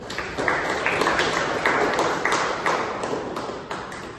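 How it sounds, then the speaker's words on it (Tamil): Steady applause from a group in a college classroom, dense clapping sustained throughout at an even level with no talk over it. "உங்களுக்கு ஒரு கைத்தட்டல்"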